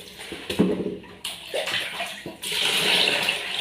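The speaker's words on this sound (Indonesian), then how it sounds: "Buang lagi airnya," Rinse water is poured out of a pot of rice, sloshing and splashing in uneven bursts before a steadier stream runs out, close by and with no talking.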